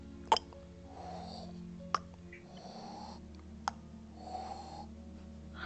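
A voice imitates a fire elemental's sound of something dripping and then burning: several close, breathy hissing puffs with a few sharp clicks between them, over a low steady hum.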